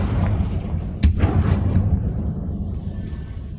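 In Hogwarts Legacy, a Confringo fire spell lands with a sharp blast and a short booming rumble, then fades into low ambient game noise.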